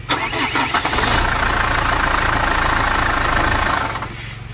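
A Chevrolet Captiva diesel cranks and fires up, then settles into a loud, steady clattering idle close by, fading slightly near the end.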